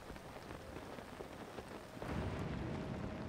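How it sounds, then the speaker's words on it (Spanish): Steady rain falls in a Zelda video game near a thunder-themed island, a dense close hiss of drops that swells louder over the last second, with no voices. "y está lloviendo"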